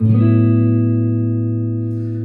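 A single jazz guitar major 6 chord is struck once and rings out alone, its sustained tones slowly decaying.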